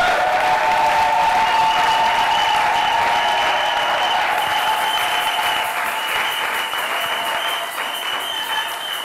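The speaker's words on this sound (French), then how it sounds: "Je vous prie de l'acclamer très fort." At a church seminar, a crowd applauds loudly and steadily for the full stretch, a thick wash of clapping with a faint murmur of voices underneath.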